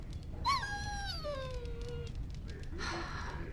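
A dog in Dragon Age: Origins gives a long falling whine, a single drawn-out whimpering cry that slides downward over a steady game background hum, followed by a brief softer sound, with no one talking.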